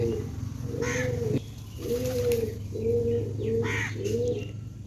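Pigeons cooing at close range in a loft, a run of repeated low rolling coos with short pauses and a few soft chirps over a faint background hum.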